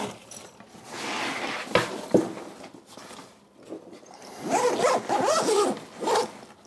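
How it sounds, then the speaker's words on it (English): The zipper on a Peak Design 45L travel backpack is drawn open in several quick rasping pulls close by, with short pauses between strokes. "here's that zipper. If I go ahead and undo it,"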